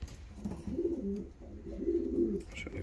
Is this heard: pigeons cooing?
yes